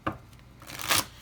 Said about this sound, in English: I've been guided to shuffle 3 more times.